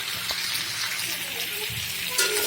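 Mixed vegetables and spices sauté in a pan, giving a soft, steady sizzle with light stirring scrapes at close range and no talk over it.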